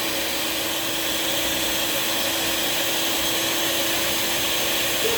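Electric stand mixer whipping chantilly cream for cake decorating, a steady loud whirring motor drone that holds evenly throughout without pause, no voices.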